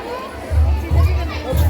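A busy temple courtyard during a Karva Chauth puja fills with crowd noise and overlapping chatter, with a nearby voice talking over the hubbub.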